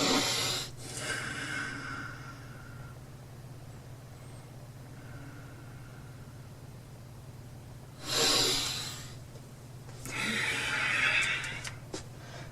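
Deep breathing during a yoga goddess pose: two strong, breathy exhalations come near the end, over a steady low background hum, with no talking.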